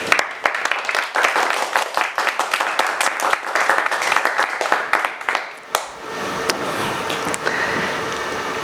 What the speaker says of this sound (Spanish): ustedes me van a recibir el capítulo 7 con un fuerte aplauso